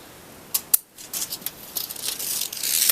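Scissors cut through protective wrap trimmed for an apple tree trunk in an Alaskan orchard: a couple of crisp close snips, a brief pause, then a run of rustling, crinkling cuts building toward the end.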